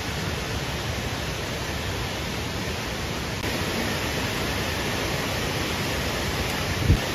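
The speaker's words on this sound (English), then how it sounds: "It rained a lot yesterday, so the waterfall is flowing really great today." Cork waterfall in Ireland running strongly after heavy rain, a steady broadband roar of rushing water that holds unbroken and loud throughout, with no voices over it.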